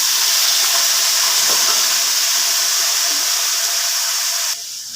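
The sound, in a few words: tomatoes added to hot oil in a pan for tomato pickle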